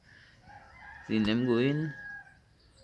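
A rooster crows once, loud and close, with hens nearby on a property under construction, and a person speaks briefly around the call.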